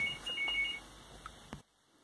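A phone beeps close by: three short, clear electronic tones in quick succession, then a brief rustle before the sound cuts to silence.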